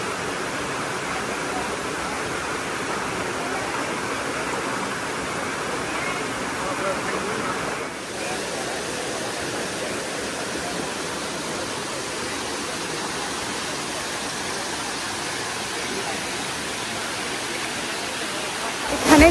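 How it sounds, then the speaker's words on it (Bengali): Steady, loud rush of a hot spring waterfall near Tiger Cave Temple, a continuous broadband roar of falling water that holds for the whole stretch. "এই হলো এখানকার হট ওয়াটারফল।"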